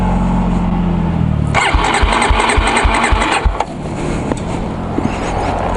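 The starter of a Kawasaki Ninja 250SL motorcycle cranks repeatedly in a fast, rhythmic churn that doesn't catch, loud and close, after a stretch of steady background noise.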